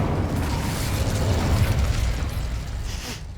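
The Incendio fire spell in Hogwarts Legacy lets out a loud, rough, whooshing burst of flame. The fiery roar carries a low rumble and holds steady before tapering slightly at the end.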